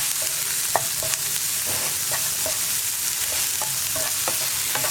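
Carrot frying in a pan for a thoran is stirred with a spoon, giving a continuous close sizzle broken by scattered scraping knocks against the metal.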